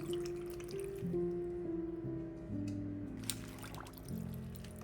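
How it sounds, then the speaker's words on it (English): Water drips and trickles quietly at close range as Chinese broccoli is rinsed, with soft splashing and a faint low hum throughout. "soak them briefly in water, then rinse well"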